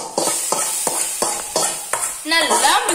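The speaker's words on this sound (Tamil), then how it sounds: "இப்போ இத நம்ம வேக வச்ச காய்கறி கூட மிக்ஸ் பண்ணிக்கலாம்." A spoon stirs pepper through boiled vegetables for an Onam sadhya dish, scraping in repeated steady strokes about every half second, with a louder, busier scrape of mixing near the end.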